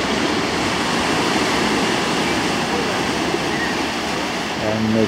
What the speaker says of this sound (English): And the swell coming in.